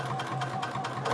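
Sewing machine basting a modified Catalina inside fabric panel, a continuous loud mechanical whir with a steady rhythmic pulse, close and without talk.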